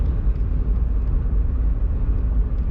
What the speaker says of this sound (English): That car came through way above the speed limit.